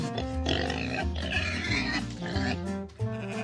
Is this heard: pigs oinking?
yes